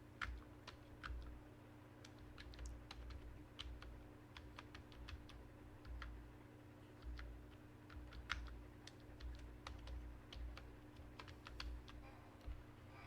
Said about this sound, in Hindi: so let's type the password